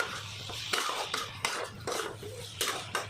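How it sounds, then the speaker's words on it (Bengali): Vegetarian taro curry (kochur torkari), with its water cooked off and garam masala just added, is stirred in a pan; about half a dozen close scraping strokes come at an uneven rhythm. "একটু নাড়িয়ে নিয়ে নামিয়ে নেব।"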